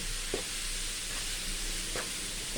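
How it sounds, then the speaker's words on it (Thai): Roasted chili paste and pork are stir-fried in a pan, a soft steady sizzle with a couple of faint spatula scrapes and no talking. "เอาน้ำพริกเผาลงไปผัดนะทุกคน"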